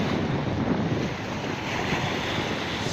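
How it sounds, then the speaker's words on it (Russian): Big sea waves breaking along the Mediterranean coast at Beldibi, Türkiye, a steady, loud wash of surf and spray with wind buffeting the microphone throughout, no voices. "большие волны на море"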